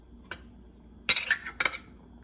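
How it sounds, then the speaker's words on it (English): A utensil scraping and clinking against a pot while chicken liver adobo is mixed, a faint tap followed by two short bursts of stirring close by, otherwise quiet. "mix slowly. Mix. Make sure that it doesn't stick at the bottom."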